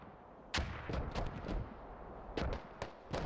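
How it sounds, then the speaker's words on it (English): A mortar barrage in the Squad Ops video game, with heavy booming blasts landing in close succession, several loud impacts spread across a few seconds over a rumbling battlefield background. "I'm gonna attempt to keep movement as still as possible while this mortar drops in."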